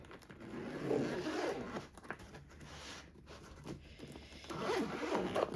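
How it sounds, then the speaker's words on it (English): Zipper drawn open around a diamond painting drill storage case, a steady close rasping run lasting several seconds with slight pauses, heard alone without talk. "Zip works fine."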